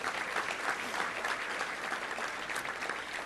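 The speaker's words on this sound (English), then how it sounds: "Let's give them all a big round of applause if you can." Steady applause from an audience at a touchdown club luncheon, a dense continuous patter of many hands at moderate volume with no talking over it.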